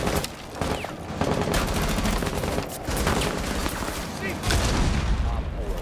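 Gunfire in the video game Rainbow Six Siege, with rapid bursts of shots and loud impacts running almost continuously and close, while players talk over the shooting.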